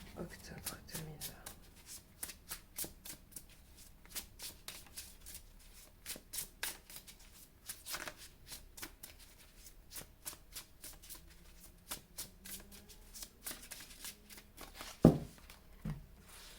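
Tarot cards are shuffled by hand in a steady run of quick, soft riffling slaps for a reading, close and fairly quiet, with a sharper knock near the end.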